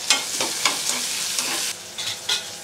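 Onion goes into hot oil and sizzles sharply, with a bright hissing fry and a few quick stirring scrapes that come in short bursts.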